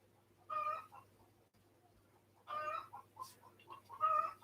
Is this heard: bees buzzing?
no